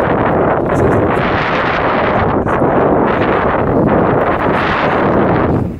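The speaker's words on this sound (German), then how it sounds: "Wenn ihr mich überhaupt noch hört von lauter Wind hier oben." Strong wind buffets the microphone on a Black Forest mountaintop at sunrise, a loud continuous roar and rumble with gusty swells throughout and no voices.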